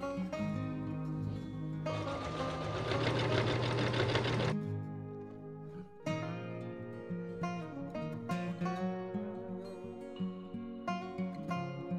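A sewing machine stitches a Viking Age hood, with a close, loud continuous run followed by shorter start-stop bursts of stitching and no voices.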